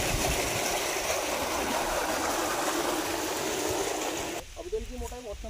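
Water gushing under pressure from an irrigation pipe on a Uttar Pradesh banana farm, a loud, steady broadband rush close by, then someone talks over the quieter flow.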